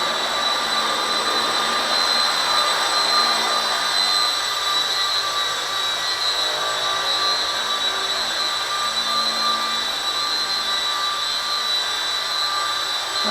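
A small V913 RC helicopter with a new motor and tail motor flies indoors, giving a steady high-pitched electric whine with constant tones, fairly loud and uninterrupted throughout.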